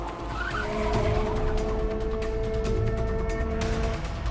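A GT race car brakes hard and its tires skid with a sustained squeal over the engine roar, close and loud, during an SRO America race.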